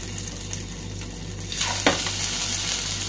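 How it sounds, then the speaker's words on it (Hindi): Chicken shami kababs fry in a shallow layer of oil over a low-to-medium gas flame, a steady soft sizzle that swells midway with a brief sharper crackle, with no talking. "इसी तरह से बाकी बचा हुआ शामी कबाब भी फ्राई कर लेंगे"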